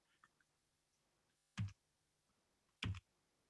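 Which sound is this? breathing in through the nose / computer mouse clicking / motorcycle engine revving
computer mouse clicking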